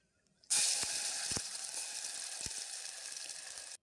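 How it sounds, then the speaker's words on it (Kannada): Ground masala paste hits hot oil in a pan on a gas stove for mushroom sambar, bursting into a loud, sudden sizzle that holds steady as a bright, hissing fry, with a few soft clinks of a utensil. "ಈಗ ಇದಕ್ಕೆ ರುಬ್ಬಿರೋಂಥ ಮಸಾಲೆನ ಹಾಕ್ಕೊಳ್ತೇನೆ."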